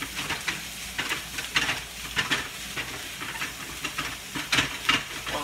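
Tortillas frying in a thin layer of hot oil, with steady crackling sizzle and sharp intermittent pops and spits, close and fairly loud throughout, no talking.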